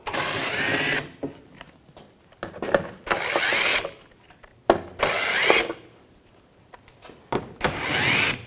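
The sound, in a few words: socket wrench removing shield bolts on a BMW X5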